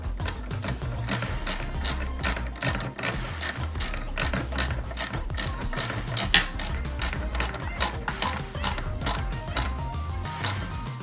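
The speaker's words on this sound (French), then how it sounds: "on va le mettre ici, ok, et on visse proprement" Rapid, evenly spaced ratcheting clicks from a screwdriver tightening screws on parts of a 1/4 scale Valentino Rossi motorcycle model, close up and continuous, with faint handling noises underneath.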